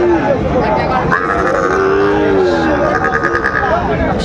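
Cattle, including Sahiwal bulls and calves, low loudly nearby amid a busy livestock market crowd, with voices talking over the animal calls.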